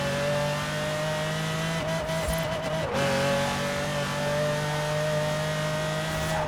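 A Ferrari 599 drift build in Forza Horizon 4 holds a loud, steady high engine whine, dipping briefly partway through before carrying on at a constant pitch.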